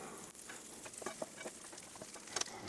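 Quiet crackling and light sizzling from butter in a frying pan, with small irregular pops and a faint scraping.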